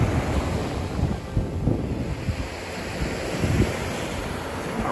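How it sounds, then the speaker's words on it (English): Ocean waves rolling onto a secluded stretch of beach at Port Charlotte, Florida, a steady washing surf roar with gentle swells, mixed with wind buffeting the microphone. "Toward the northern end of the beach, it gets pretty secluded."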